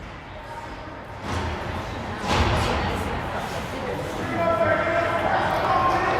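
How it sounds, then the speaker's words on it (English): Foam pool noodles bang loudly and repeatedly in the stands at an arena ringette game, a dull rhythmic thumping mixed with crowd noise while a commentator talks over it. "the Whitby parents have a bunch of pool noodles that they're banging away"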